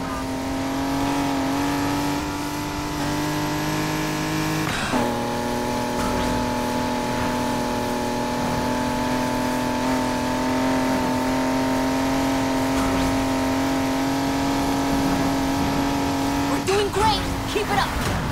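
A BMW i8 race car engine in the Need for Speed Heat video game roars steadily at high revs, with a sharp gear change midway and another shift near the end, loud and continuous.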